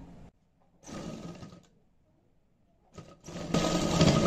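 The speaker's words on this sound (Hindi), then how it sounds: "अब इसमें हमें सिलाई बराबर जैसे हम पीछे से लगाते आ रहे हैं तो उसी तरह से हमें सिलाई लगा देना है" A sewing machine stitches a zip into a stitched suit in short motorized runs separated by pauses, the last burst louder and steadier, close by with no talk.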